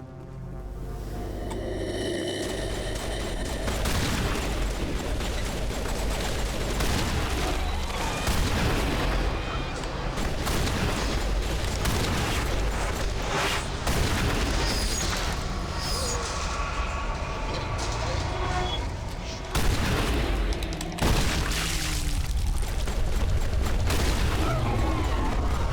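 Combat in the video game Mass Effect: sustained gunfire and booming explosions, loud and dense, with repeated bursts and heavy impacts running almost continuously, a few sharp blasts standing out.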